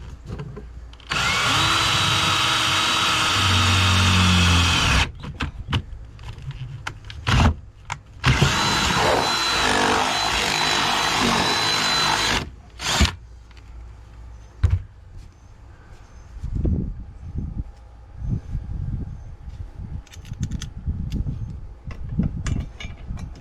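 A power drill bores a hole in wood for a bolt with a big washer, two sustained loud whining bursts of several seconds each, followed by quieter handling knocks and clunks.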